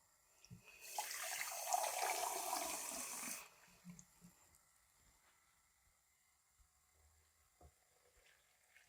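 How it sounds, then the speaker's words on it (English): Cold tap water gushes loudly into a blender jug for about three seconds, then cuts off, leaving quiet clinks and faint handling sounds in a kitchen while preparing green plantain porridge. "And then I'm just going to get some water to blend it."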